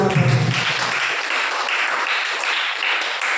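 A congregation clapping at a church gathering, a dense, even, rhythmic burst of many hands, loud and close, lasting a few seconds.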